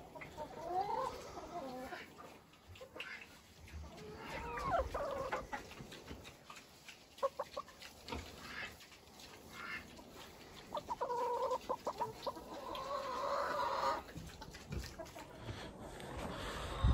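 Chickens cluck and squawk in a farmyard pen shared with pigs, busy close-up calls overlapping at varying loudness across the whole stretch, with a fairly steady background din.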